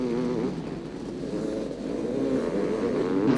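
Motocross motorcycles racing on a dusty dirt track at a world championship round, a steady buzzing engine drone that swells slightly toward the end, with no voices.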